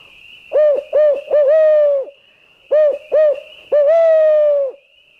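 Loud, close hooting calls imitating a barred owl at night, in rhythmic bursts of several notes, with a steady high tone running underneath between phrases.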